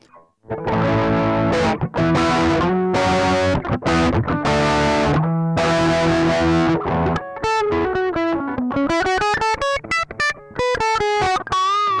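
A distorted electric guitar plays chords, then a run of single notes, with a high-cut graphic equalizer shaving off the bright top end for a muffled, dull tone.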